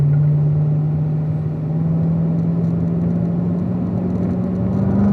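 A car engine drones steadily in fourth gear on a race track, its low pitch rising slowly as the car rolls on at constant power, loud and close throughout with no talk over it.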